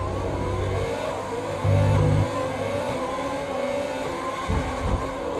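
Formula 1 race car in a Codemasters F1 2020 career race at the Dutch Grand Prix, engine droning steadily at high revs with brief louder surges and gear-change dips, close and continuous.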